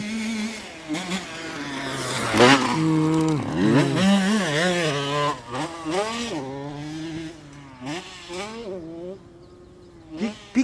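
A motocross motorcycle engine on a dirt track revs hard and loud up close, its pitch rising and falling repeatedly as the rider works the throttle over the course.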